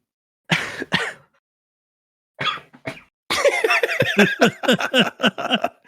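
Several harsh coughs and throat clearings come in separate bursts, then a rapid run of coughing mixed with wheezy laughter, close to the microphone.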